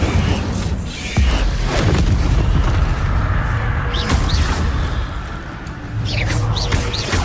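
Incendio fire spell blasts in Hogwarts Legacy, whooshing, booming bursts of flame mixed with other spell impacts and combat effects, repeated several times in close succession at fairly high volume.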